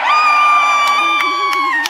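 A crowd at PAX cheers and shouts loudly and continuously for a couple of seconds, close and dense, with high voices whooping together.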